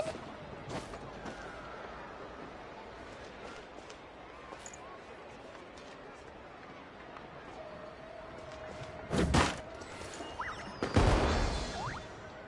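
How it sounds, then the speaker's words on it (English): Firework-shooting toys go off at a festival in Genshin Impact, with a few sharp bangs and whooshing bursts, the loudest pair near the end, over a low steady game ambience. "They're toys that shoot fireworks."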